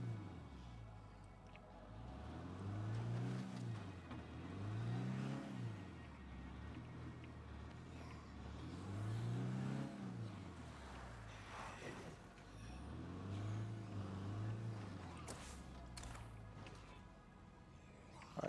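A car in State of Decay 2 drives along, its engine note rising and falling in repeated swells as it accelerates and eases off, moderately loud and continuous, with talking over parts of it.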